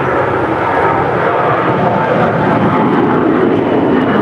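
A 21-year-old Air Canada Airbus A321 jet airliner departing LAX for Toronto, its engines producing a loud, sustained, broadband roar at close range that holds steady throughout.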